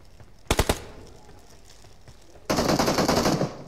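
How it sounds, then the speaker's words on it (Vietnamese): Automatic gunfire in PUBG: Battlegrounds, with a short burst of a few quick shots followed by a longer rapid volley of shots a couple of seconds later. "Nó bắn con boss kia nó bốc khói luôn rồi cơ"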